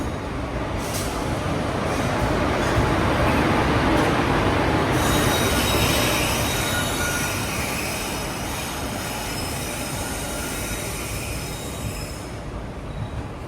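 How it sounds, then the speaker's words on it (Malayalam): A passenger train pulls into a railway station on an overnight trip to Palakkad, with loud, sustained wheel squeal and rumbling rail noise nearby that fades slightly as it slows. "ട്രെയിൻ വന്നിട്ടുണ്ട് കേട്ടോ ഇതാണ് ട്രെയിൻ"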